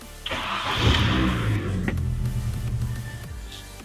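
A Mini Cooper engine cranks and catches at close range, settling into a steady idle hum with a brief rise in revs, the car having a power steering fault.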